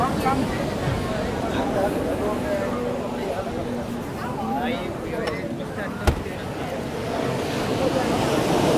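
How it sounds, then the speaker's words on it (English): Loud ocean waves wash onto a beach in Trivandrum, India, a constant churning surf roar with wind buffeting the microphone and people talking over it. "Some loud waves."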